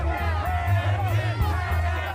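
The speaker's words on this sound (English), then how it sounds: "crowds are chanting hate outside the court" Outside a courthouse a crowd chants, a dense rhythmic mass of voices with a steady low pulse, moderately loud and continuous throughout.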